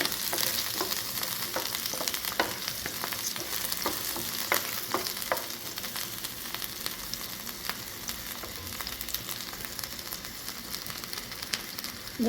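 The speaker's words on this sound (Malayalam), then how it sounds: "ഇനി ഇത് നന്നായിട്ട് നമുക്കൊന്ന് വഴറ്റിയെടുക്കാം ഏകദേശം ഒരു റെഡ് കളറാകണോളം നമുക്ക് വഴറ്റിയെടുക്കാം" Chutney ingredients for a curry-leaf chutney sauté in a pan until they turn red, giving a steady close sizzle with frequent sharp clicks and scrapes from stirring and no voices.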